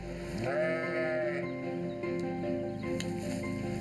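A sheep bleats once, loud and close, a wavering nasal call lasting about a second, followed by quieter farmyard background noise and faint animal sounds.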